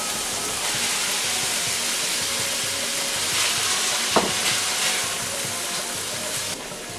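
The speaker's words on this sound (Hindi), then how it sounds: "तो इसमें अभी हम 2 कटे हुए टमाटर डाल देंगे।" Finely chopped tomatoes frying in oily spinach paneer paste make a steady, close sizzle with faint stirring scrapes and one sharp clink partway through.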